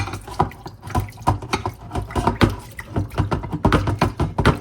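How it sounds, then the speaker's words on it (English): Water runs from a tap over a slimy bowl that held mangoes as it is rinsed, splashing and gurgling in uneven bursts close by, with no talking. "It's a little bit slimy, so I'm gonna rinse it"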